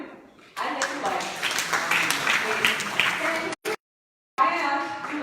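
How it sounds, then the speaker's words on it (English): Audience clapping during a college seminar on stress management, a dense broadband patter mixed with talking voices that breaks off briefly near the end before resuming. "Please clap for him."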